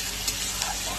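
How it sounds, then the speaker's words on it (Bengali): Sliced onions sizzle in a pan while cooking for a fish-roe fritter curry. A brief, steady, soft hiss of frying is heard with no voices over it. "পেঁয়াজটা ভাজা হয়ে গেছে, এবার দেবো টমেটো।"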